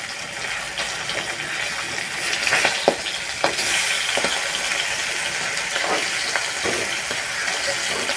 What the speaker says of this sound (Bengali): মাছগুলো কিন্তু সুন্দরভাবে ভেজে নিয়েছি